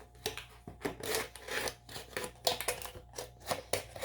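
Scissors cut up aluminium soda cans in a close, uneven series of crisp metallic snips and scraping crunches, about a dozen cuts in quick succession with no talk.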